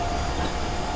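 Seibu 30000 series train, later-production car with a Hitachi two-level IGBT inverter, running between Ikebukuro and Tokorozawa: a steady onboard rumble with a constant high inverter tone, continuous and fairly loud throughout.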